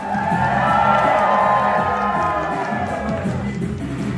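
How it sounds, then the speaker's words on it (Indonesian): A seminar audience in Amsterdam cheers and shouts together, a loud continuous crowd roar with whoops and some scattered clapping that fades slightly toward the end. "Yang yakin biasanya tepuk tangan lebih keras, teriak lebih keras."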